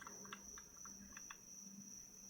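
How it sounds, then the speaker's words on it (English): Higurashi cicadas chirp in a steady, shrill drone from a video game, with short bright bursts layered over a constant high tone and a faint low hum beneath. "You can hear the cicadas, the higurashi."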